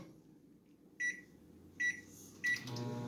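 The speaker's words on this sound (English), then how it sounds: "I'm going to hit the microwave just about 20 more seconds" A microwave hums quietly, then three short electronic beeps sound in quick succession, followed by a louder steady whir.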